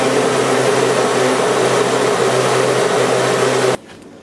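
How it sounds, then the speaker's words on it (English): A blender purees cooked pumpkin for pumpkin butter, a loud steady motor whir that holds evenly for several seconds and then cuts off abruptly near the end. "I'm not using a food processor, I'm using a blender."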